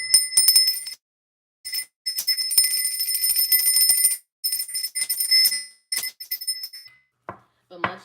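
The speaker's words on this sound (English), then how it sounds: "Oh, and mind you, I have a Ganesha bell." A Ganesha bell rings in bright, close, repeated bursts with shimmering overtones and short pauses between strokes, followed by a brief voice near the end.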